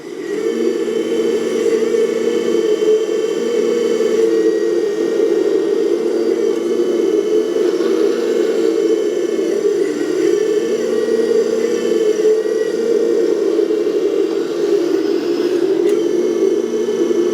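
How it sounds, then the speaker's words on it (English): Continuous droning whine of a 1/12-scale RC excavator's small hydraulic pump running steadily at close range, loud and unchanging throughout, with no voices. "that's the hydraulic sound"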